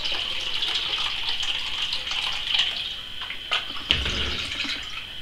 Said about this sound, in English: I'm gonna top it up with a bit of cold water.